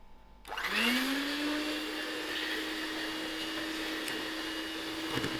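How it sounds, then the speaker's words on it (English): Electric mixer beating butter, sugar and egg into cookie dough, switching on abruptly, revving up, then holding a loud, steady whine for several seconds, with no talking. "Now I'm going to give this another mix till it's all combined."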